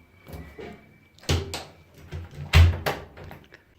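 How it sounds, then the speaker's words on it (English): Door shut with a sharp thud, preceded by softer knocks and shuffling, the slam fairly loud and close with a short tail of rattling. "You shut the door."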